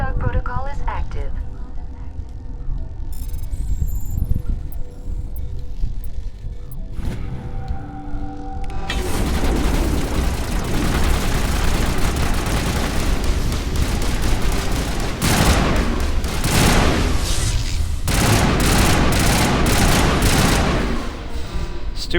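Automated turrets fire in Mass Effect, a sustained loud barrage of rapid gunfire with booming hits, following a quieter stretch with an electronic warning voice.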